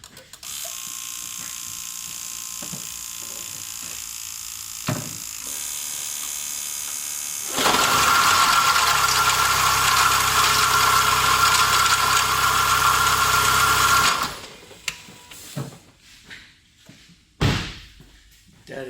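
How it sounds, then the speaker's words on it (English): A V6 car engine with a failed water pump runs at a steady idle, then swells into a louder, harsher roar for several seconds before dropping away, ending with a few knocks and a sharp slam. "absolutely typical sound of failed water pump"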